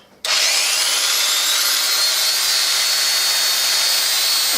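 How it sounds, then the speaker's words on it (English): An electric power chisel carving a wooden sign starts abruptly and then runs as a steady, loud, high-pitched buzzing whine, up close and alone with no talk. "And start the chisel."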